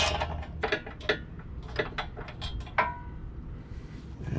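A metric socket wrench loosens a bolt on a vehicle bumper, giving a quick series of soft ratcheting clicks and metallic ticks, close up and fairly quiet.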